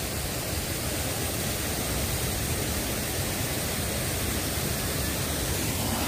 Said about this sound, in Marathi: इथे एक धबधबा आहे छोटासा, तुम्ही बघू शकता।